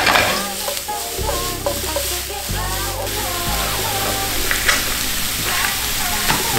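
Mushrooms added to softened onions sizzle steadily in a pan for a mushroom purée sauce, with a close, bright crackle and occasional stirring clicks, while faint wavering melodic tones drift over the frying.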